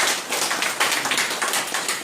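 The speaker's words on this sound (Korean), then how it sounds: "박수 한번 주십시오." An indoor lecture audience claps together, producing dense, close, continuous hand clapping with no talk over it.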